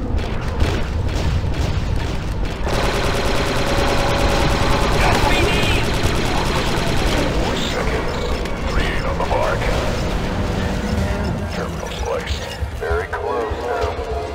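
Turret gunfire against droids in the Star Wars: Republic Commando game, a dense, continuous barrage of mechanical firing and blasts that runs throughout amid loud battle noise, with brief radio-style voices mixed in.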